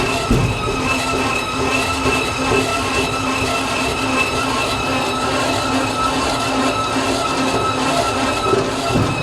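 A rail bike rolls steadily along railway tracks, giving a continuous close rumble with faint wheel squeal and clicking joints, with no pauses for the whole stretch.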